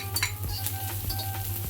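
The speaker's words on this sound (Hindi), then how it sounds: "ये हमने हल्के हल्के सोते करने हैं, इसको बहुत ज़्यादा फ्राई करके या इसको सॉगी नहीं बनाना।" Cabbage and mixed vegetables are sautéed in a pan with light sizzling, and a spoon stirs and taps against the metal in quick, close strokes under a constant low hum, with no voices.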